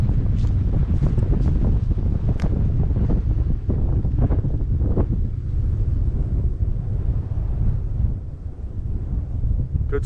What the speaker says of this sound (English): The wind's really ripping up here